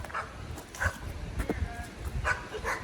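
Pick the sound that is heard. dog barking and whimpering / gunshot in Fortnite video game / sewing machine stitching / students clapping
dog barking and whimpering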